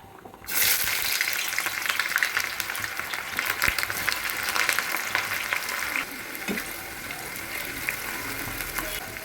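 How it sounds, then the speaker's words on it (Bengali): Onions sizzle in a pan, starting abruptly and staying loud and crackly, with occasional stirring scrapes and taps, easing slightly toward the end. "এদিকে পেঁয়াজ ভাজা হচ্ছে"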